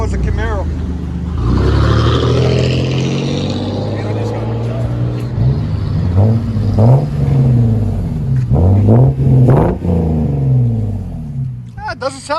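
A car engine with a deep exhaust note revs up several times, rising and falling in loud swells close by, with people talking around it.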